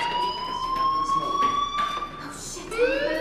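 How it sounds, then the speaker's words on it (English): Fire alarm ringing in the Life is Strange video game, a continuous high electronic wail that sweeps slightly up and down, with another rising siren-like tone joining near the end, fairly loud against faint background noise. "do you hear that fire alarm?"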